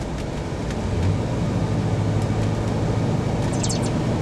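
A 1994 Ford Bronco with a 6-inch lift and 35-inch tires cruises down the road, heard from inside the cab as a steady low engine and road rumble with no talk.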